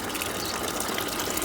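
Water gushes steadily from a pipe into a castor field, a dense, continuous rushing hiss that stays even and close throughout with no voices.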